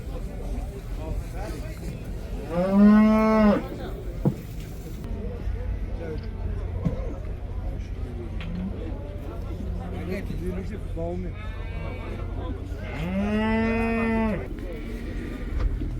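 Two drawn-out cattle moos, one early and one near the end, rising over steady crowd chatter and low rumbling background noise at a busy outdoor livestock market in Taraz, Kazakhstan.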